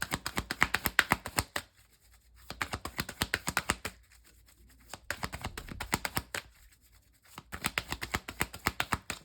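New tarot cards being shuffled in quick riffling bursts of dense clicks, with short pauses between three or four shuffles, close and fairly soft.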